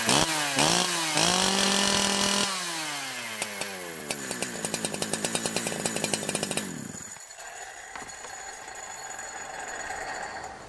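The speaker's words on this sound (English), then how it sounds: "let you listen to how grossly rich this saw is at just over 1 full turn out" Holzfforma G372 chainsaw running grossly rich with the HLIC carb's high jet just over one full turn out, a loud close engine revving and burbling unevenly before dropping back to a rough idle.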